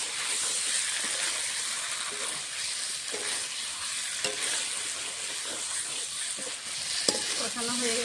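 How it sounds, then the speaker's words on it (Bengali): Boiled potatoes frying and being stirred in a spice paste in a pan, giving a steady close sizzle with scraping stir strokes throughout and no talking. "সিদ্ধ করে ভেজে রাখা আলুটা এখন দিয়ে কিছুক্ষণ কষিয়ে নেব।"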